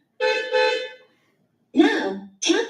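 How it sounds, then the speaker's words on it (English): A car horn honks twice in short, close bursts, then after a pause sounds twice more in rougher toots, heard alone as a sample sound in a school listening test. "Car."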